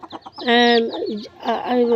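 A domestic hen clucks loudly and close by among her chicks, drawn-out tonal calls broken by short clucks, with faint voices in the background.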